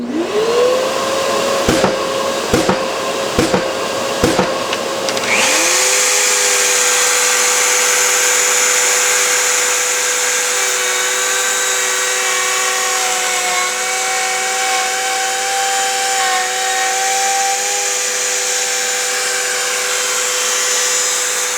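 A PantoRouter cuts a sliding dovetail slot mortise, first starting and stopping in several short whirring bursts, then running in a loud, steady high whine with faint shifts in pitch as the cut goes on.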